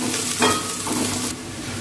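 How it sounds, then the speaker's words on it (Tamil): Crushed ginger and garlic stirred through frying onions in a pan for Tamil coconut milk rice, a close steady sizzle with a brief scrape of the spoon partway through, no voices. "இஞ்சி பூண்டு தட்டி வச்சுருக்கேன், அதையும் சேர்த்துக்கலாங்க. நல்லா கிண்டி விட்டுக்கலாம்."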